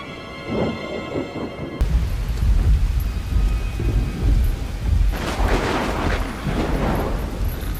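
A thunderstorm with rain in a Chinese action movie, heavy loud rain and deep rumbling thunder after a brief quieter opening, building into dense crackling downpour.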